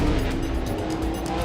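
Race cars roar past down the front stretch of a dirt track, a loud steady engine drone with some tire noise throughout.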